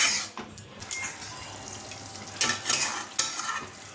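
Potatoes cook in a spiced, watery curry base in a pan for potato curry, with a low bubbling sizzle under several sharp scraping stirs of a spoon against the pan.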